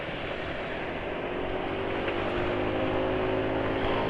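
A motorcycle engine with its silencer removed drones steadily and rises slightly toward higher RPM, a continuous loud unmuffled hum with no speech.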